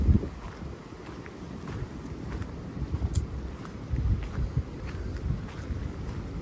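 Strong warm wind blusters across the microphone on a 70-degree day, a low rumbling roar that gusts and surges unevenly, fairly faint and with no voices.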